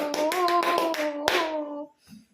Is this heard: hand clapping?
yes